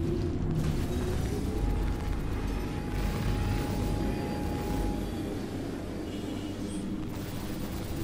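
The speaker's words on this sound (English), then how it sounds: "Here come the missiles." Incoming missiles in Star Citizen during a pass on a Buccaneer ship: a loud, continuous rumbling roar with whooshing and mechanical texture, sustained throughout without speech.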